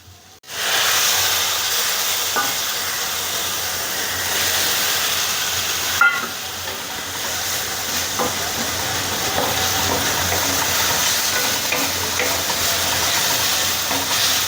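A splash of water poured into a hot kadhai of spiced masala bursts into a loud, steady hiss and sizzle that holds for several seconds, with a brief clatter partway through.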